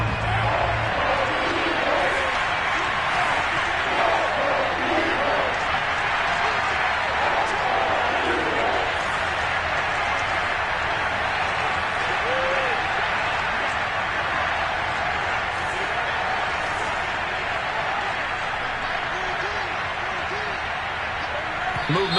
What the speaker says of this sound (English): The crowd's not doing that O-line any favors.